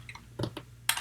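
Several quick keystrokes tap on a computer keyboard while code is entered, a few soft clicks followed by a sharper key press, close and quiet.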